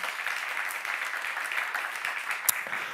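Continuous applause from a congregation at a church seminar, a steady dense patter of many hands clapping for the full stretch with one sharper clap near the end.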